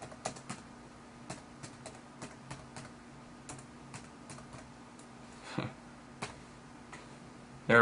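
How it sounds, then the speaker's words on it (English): Typing on a computer keyboard while searching for San Francisco images, heard as quiet, irregular clicks in quick bursts with short pauses, close to the mic, and a louder clack near the end. "So what I'm going to do here is just type in San Francisco."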